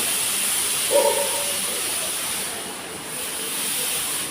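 A pressure cooker full of dal hisses loudly and steadily throughout, with a brief tonal squeal near the start riding over the constant rush of steam.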